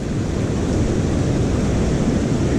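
Steady roar of winter surf washing in on a beach with the tide rising, loud and continuous, with broadband rushing noise and no voices.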